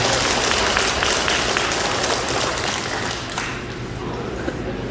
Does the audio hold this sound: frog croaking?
no